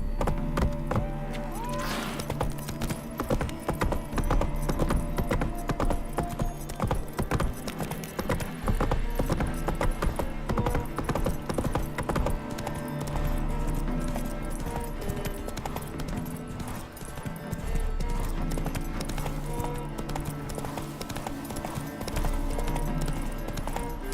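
Roach the horse gallops in The Witcher 3, hooves clip-clopping in a fast, steady rhythm close by and loud for the whole stretch, with a brief whinny near the start and no voices.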